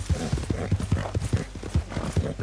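Horse hooves clip-clop in a quick, steady rhythm in Red Dead Redemption 2, close and clear, with the occasional snort.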